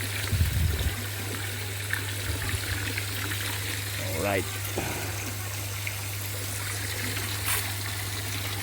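Water flows steadily through a recirculating aquaculture filter tank system, a continuous trickling wash under a low pump hum, with brief speech near the end.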